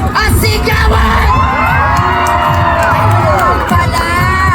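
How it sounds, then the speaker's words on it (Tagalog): A concert crowd at the 2024 Taste of Manila shouts and cheers, a dense, loud wash of yelling voices with whoops throughout. "Bakit hindi ko narinig yung palakpakan at sigawan?"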